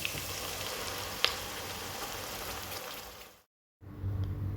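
Steady, close sizzling and frying as ground masala paste goes into a hot pan for village fish curry, with a sharp pop, then a brief silence before quieter bubbling resumes.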